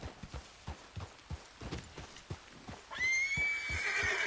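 A horse in Red Dead Redemption 2 clip-clops along in a steady walking rhythm, then lets out a loud, drawn-out whinny that rings over the last second or so of hoofbeats.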